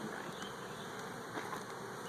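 Irritable forager honey bees crowd around in a dense, continuous buzzing hum, faint but steady throughout, with no voices present.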